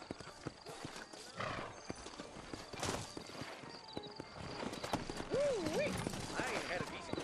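Horse hooves clip-clop in a Western video game, a steady trotting rhythm of hoofbeats with a neigh partway through and background game sounds.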